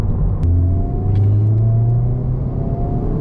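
A Honda Civic Type R FL5 roars loud and close as it accelerates, its engine note climbing steadily through a deep rumble with no voices over it.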